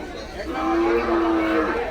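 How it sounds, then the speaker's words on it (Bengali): A single cow lows in a long drawn-out moo amid a busy cattle market, with crowd chatter and general bustle filling the background. "এই পাশে আরো অনেকগুলো গরু দেখতেছে ওগুলো কার"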